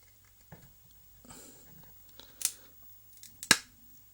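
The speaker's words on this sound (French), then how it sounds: "j'ai un peu de mal à découper." Scissors cutting material for the eye pieces of a Spiderman mask, with a few sparse, close snips and rustles separated by quiet pauses, the two strongest cuts sharp and crisp near the end.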